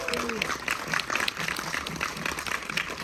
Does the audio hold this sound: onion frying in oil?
no